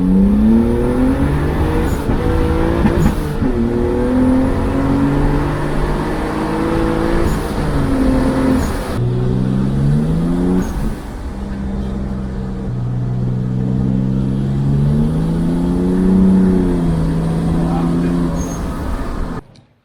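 Turbocharged BMW E30 with a T04E turbo at 1 bar boost, engine idling steadily with rising and falling revs throughout, loud and close, with a brief dip midway.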